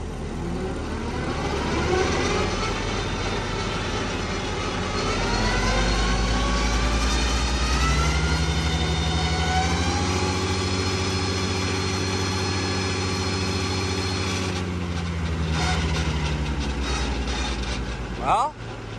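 A heavy tractor engine runs close by driving the PTO, its pitch rising as it revs up and then holding a steady drone before dropping near the end.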